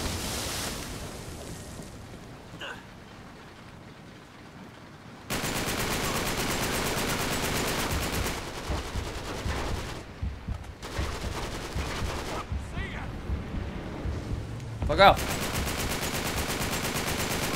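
Gunfire in the video game Uncharted 3: Drake's Deception, rapid bursts of shots and automatic fire that grow louder after a quieter opening, with loud bangs near the end.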